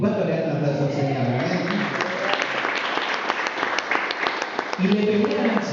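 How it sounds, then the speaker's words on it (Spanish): A church congregation breaks into sustained applause during a sermon, dense clapping filling the room throughout with steady loudness, accompanied by musical tones and voices underneath. "¿Cuánto le dan aplausos al Señor?"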